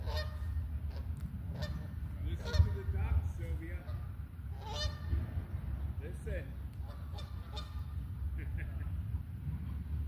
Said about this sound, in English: Listen to the ducks, Sylvia